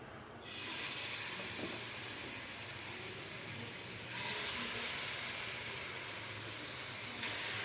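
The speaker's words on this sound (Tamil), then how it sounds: "இப்போ இதை வந்து எண்ணெயில் போட்டு பொறிச்சு எடுத்துக்கலாம்" Marinated rock fish pieces drop into hot oil in a kadai and set off a steady, dense sizzle and hiss that swells again partway through, close and loud, with no talking.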